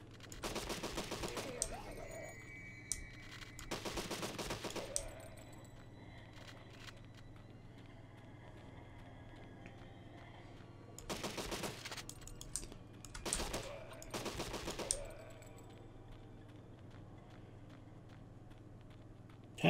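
Bursts of player gunfire in the shooter game Deadly 30, several sharp rapid volleys spaced out with quiet gaps between them, close and loud over a low steady hum.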